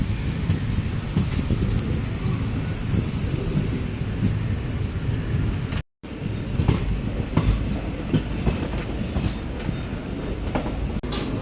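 A daily passenger train on the Velankanni–Mayiladuthurai line pulls into Karaikal station with a loud, heavy rumble and rolling clatter of wagons, continuous and close, with outdoor noise around it.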